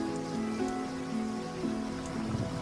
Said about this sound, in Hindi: ऐसी बारिश पहले कभी नहीं हुई।